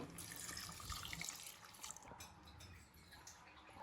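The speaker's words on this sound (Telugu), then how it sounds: "three and half glass water పోసుకుంటున్నాను" Water runs and splashes steadily into a pot of rice for mutton pulao, a continuous pouring hiss with small gurgles, close by and fairly quiet, no talking.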